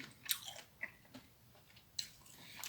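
Shrimp eaten together with thorny tree shoots, chewed close to the mouth in soft, quiet crunches and a few sharper bites spread over a couple of seconds.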